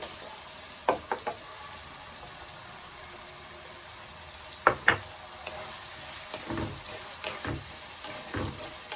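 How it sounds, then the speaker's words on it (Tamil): Tomatoes and onions sauté in a pan, a soft continuous sizzle broken by a few sharp knocks and scrapes of a spoon against the pan, fairly close, with no talking. "தக்காளி வெங்காயம்லாம் நல்லா சாஃப்டாக ஆகிற அளவுக்கு நல்லா வதக்கணும்"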